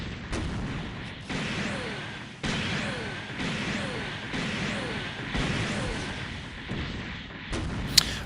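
Crossbone Gundam X-1 in SD Gundam Online fires a single-shot dumbfire weapon again and again, each heavy blast booming and trailing off roughly once a second, followed by a short sharp click at the end.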